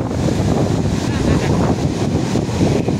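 Steady wind buffeting the microphone at a sea beach, with surf and waves rumbling underneath, loud and continuous, with no voices.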